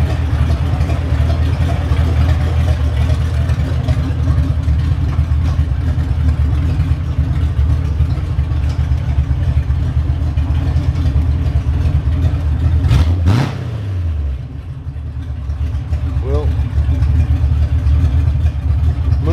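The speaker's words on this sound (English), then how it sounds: "it's a classic V8 noise with open headers" A V8 engine running with open headers, a loud steady low burble with harmonic drone that briefly dips near the end before picking back up, heard close and alone.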